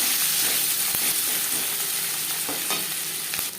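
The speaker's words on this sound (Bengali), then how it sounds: "পেঁয়াজ হালকা করে ভেজে নেব" Onions frying in oil in a wok already used for frying fish produce a steady, close sizzle, broken by occasional soft scrapes from stirring.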